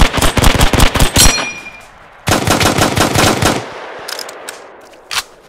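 Machine gun fire in the WWII shooter Hell Let Loose: a loud rapid burst of about a dozen shots, a pause, then a second long automatic burst, followed by quieter mechanical reload clicks and a final single thump.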